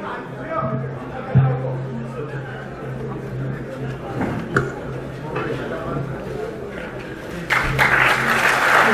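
An audience at a Korean forum of retired generals murmurs and chatters, with scattered claps building into louder, fuller applause in the last seconds.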